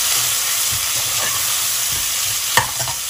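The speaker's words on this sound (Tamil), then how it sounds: "லைட்டாக உப்பு சேர்த்து வெங்காயத்தை நல்லா வதக்கிக்கலாம்" Onions sautéing with salt in a pan for prawn biryani make a loud, continuous sizzle, with scattered stirring clatter and one sharp utensil knock near the end.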